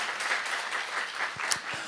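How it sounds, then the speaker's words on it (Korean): A church congregation at a Saturday worship service applauds together, a steady, dense patter of many hands clapping throughout the short stretch, moderately loud and filling the room. "박수 하세요."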